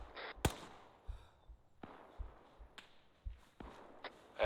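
Sporadic gunshots from Arma 3 combat crack at irregular intervals, some sharp and close, others duller and farther off, spread across a few seconds with no talking.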